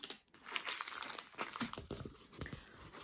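A plastic packet from an unboxed diamond painting and cross-stitch kit crinkles and rustles close up in irregular bursts for about three seconds, with no talking.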